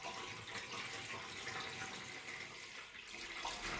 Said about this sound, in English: someone else could be getting the tray ready in the centre of your table and filling it